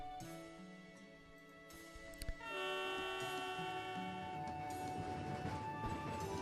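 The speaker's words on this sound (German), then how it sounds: "A tram that crosses the sea of stars, huh?" A futuristic tram from Fate/Grand Order rolling along, with a steady mechanical rumble and sustained tonal hum that swells after a brief clunk partway through, holding fairly loud to the end.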